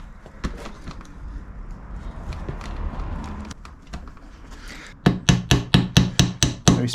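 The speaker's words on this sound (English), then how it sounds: "Very small hammer." A small hammer taps pegs sharply in a quick, regular series of about ten close strikes, preceded by quieter scattered knocks and handling sounds, while refitting seatbelt guide trim on a 1999 BMW Z3.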